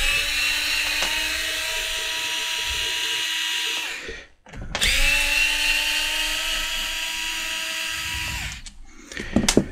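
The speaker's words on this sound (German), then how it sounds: "Die schrauben einfach mal die vier Schrauben raus" Cordless screwdriver backing out four screws from a faulty Lidl Parkside SMART 8Ah PAPS 208 A1 battery pack, a steady high motor whine running in two long bursts with a short pause between, close and loud, no talk.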